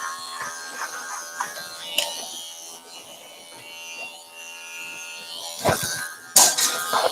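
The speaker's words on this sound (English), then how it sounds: "He's going to do his layers with it, and then he's going to put some texture as well in the haircut with the clipper." An electric hair clipper buzzes in short bursts while cutting and texturing layers in a salon haircut, with faint voices and some clattering nearby.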